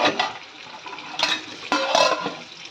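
A metal lid set back onto a pot of simmering Telangana-style chicken fry with tomato pieces, giving a few close clanks and scrapes over a steady cooking hiss.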